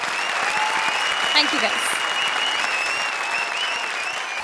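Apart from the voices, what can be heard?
audience applause for Kapil and Mukti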